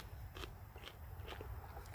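Someone bites into a fresh green bean from a garden and keeps chewing, giving a few faint, crisp crunches in a quiet outdoor setting.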